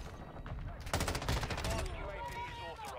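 M13B assault rifle fire in Call of Duty: Modern Warfare II, a rapid burst of close automatic shots lasting about a second, then echoing tails and game sounds underneath.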